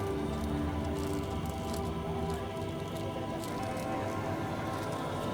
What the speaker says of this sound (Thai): จุ่มลงไปผ้าให้ผ้าเนี่ยเปียกน้ำให้ผ้าเขากินน้ำให้อิ่ม